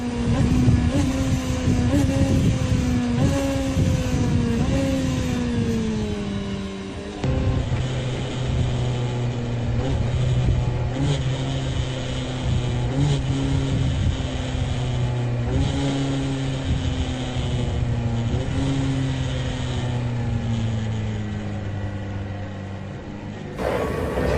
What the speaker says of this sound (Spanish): Reducir sin usar el embrague es otra forma de hacerlo